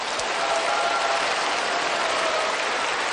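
A packed lecture audience bursts into sustained applause, a dense, even wash of clapping that holds steady at full strength without pause.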